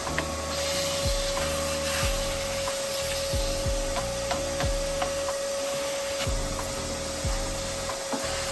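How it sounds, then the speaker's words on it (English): A vacuum cleaner runs continuously over the base of a wooden dresser cabinet during a furniture makeover, a steady whining drone with repeated rubbing strokes and bumps as the nozzle works along the wood. "I did vacuum it to make sure and remove all of the extra dust bunnies."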